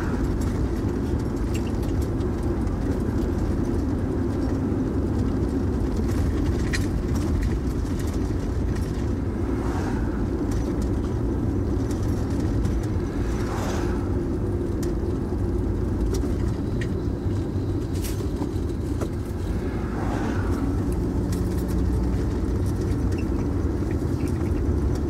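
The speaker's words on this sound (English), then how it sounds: "place seems to be an endless trail of trucks. It's one after the other." Harvest trucks pass steadily on a country road between Moree and Narrabri, producing a continuous loud rumble of engines and tyres with a few passing swells, heard from close by without talk.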